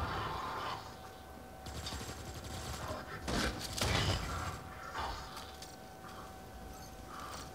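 Gunfire in the shooter game N.O.V.A. 3, faint bursts of shots with a few louder clustered volleys in the middle, against a low in-game background.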